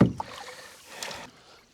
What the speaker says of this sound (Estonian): Ehk siis nüüd jah, ronime kummikuga siia paati.